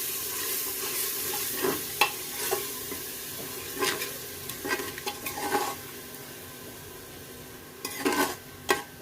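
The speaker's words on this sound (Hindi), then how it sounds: "इसको हम अच्छे से भून लेंगे। फ्लेम हाई पे रखनी है।" Masala for mutton khichda fries on high flame, giving a constant sizzle broken by repeated scraping stirs of a spoon against the pot, close and fairly loud, with no talking.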